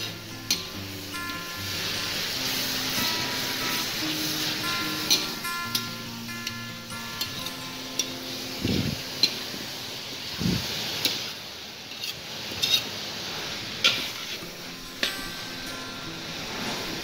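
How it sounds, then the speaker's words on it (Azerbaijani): Vegetables with red and green peppers sizzling in a frying pan, a steady close hiss broken by regular clicks and scrapes of a utensil stirring, with no voices. "qovururuq."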